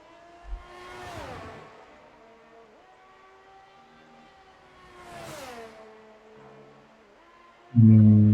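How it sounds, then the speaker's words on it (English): In a sim racing game, a race car's engine on the Belgium track rises and falls twice as it accelerates, then brakes and shifts down with a sweeping pitch drop, ending in a loud low burst of engine sound. "As we see the Vito going through Pujon, braking, going into fourth gear"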